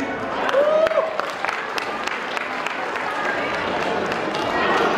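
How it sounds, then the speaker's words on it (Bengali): Applause for children at a school cultural celebration: a crowd claps steadily in a reverberant hall, scattered sharp claps over a broad wash, with voices murmuring underneath. "আমরা সবাই থেকে বাচ্চাদের হাততালি দেই"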